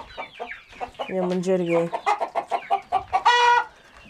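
A hen clucks in a quick, uneven series of close, loud calls, with one drawn-out squawk midway; a person speaks briefly.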